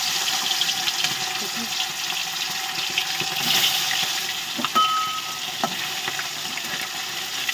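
Fish dropped into hot oil frying with a steady loud hiss, with a few clinks and stirring knocks against the pan close by and no talking.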